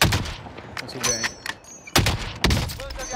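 Several sharp gunshot bursts in Call of Duty: Warzone, clustered in quick volleys with brief gaps, loud and close, with faint voices underneath.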